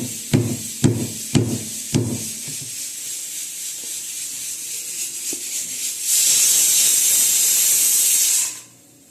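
A kitchen mixer grinder whirs loudly for a couple of seconds as it grinds dry dates for a Kolhapur-style wheat kheer, preceded by a few sharp knocks.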